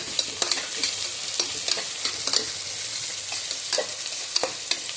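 Onions sauté in a hot pan, a continuous bright sizzle with repeated close scraping strokes of a spatula stirring them, steady and fairly loud with no voices.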